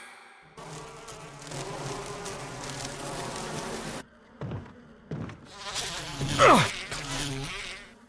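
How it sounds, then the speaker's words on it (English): Bees buzz near a giant beehive in a Resident Evil game residence. A loud, close swarm drones for several seconds, breaks off, then returns with a sweeping buzz as a voice lets out a short grunt. "What's with these bees?"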